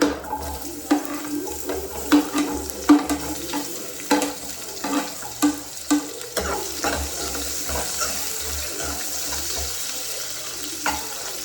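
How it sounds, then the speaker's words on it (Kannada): Chopped onions frying in a hot pan, a steady sizzle with scattered pops and the clatter of a spatula, heard alone without talk. "ಈಗ ಬಾಣಲಿ ಕಾದಿದೆ, ನಾನು ಇದಕ್ಕೆ ಆನಿಯನ್ ಹಾಕ್ಕೊತಿದ್ದೀನಿ"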